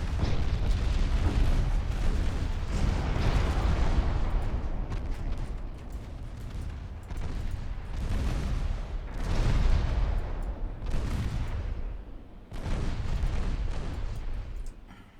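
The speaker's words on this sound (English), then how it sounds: "Cruiser can still defend itself with 3 and 5 inch guns, luckily." Naval guns aboard a cruiser firing in the warship game Ultimate Admiral Dreadnoughts, with 3 and 5 inch secondary batteries: a dense, continuous barrage of loud booms and blasts that overlap and swell in repeated waves.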